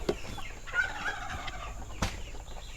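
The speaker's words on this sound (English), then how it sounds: "we have two hens that are actually sitting at the moment" Sitting hens and a duck on a small farm give soft clucks and low calls, faint and fairly close, with rustling and a couple of brief knocks in the background.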